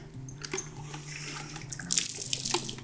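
A tap runs water to rinse out a dog's mouth during a dental check-up, the steady splashing stream close by and continuous, swelling slightly louder near the end with no talk.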